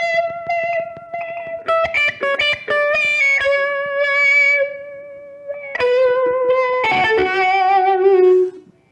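An electric guitar played through a T-Rex Yoy-Yoy effect pedal with distortion rings out in sustained, sweeping notes and chords, loud and close, with a few rapid picked passages and no talk.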